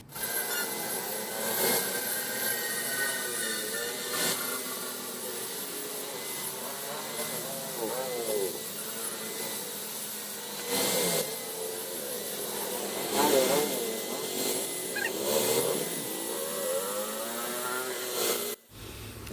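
An angle grinder cuts through the weld at the back cap of a motorcycle chicken-pipe exhaust, making a continuous harsh, close rasp. Its pitch wavers as the disc bites the metal, and a few louder surges stand out along the way.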